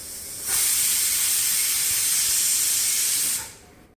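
A pressure cooker on the stove vents steam in one loud, steady hiss lasting about three seconds before cutting off.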